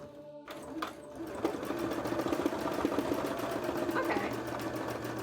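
A sewing machine stitches an anatomical breast embroidery, running as a steady, close, continuous buzz for most of the stretch after a brief pause near the start.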